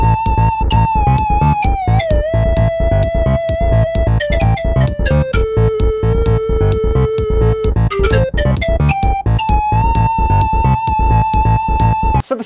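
A Super Nintendo bass sample plays a steady walking pattern of plucked notes, loud and continuous with a chiptune, sampled tone.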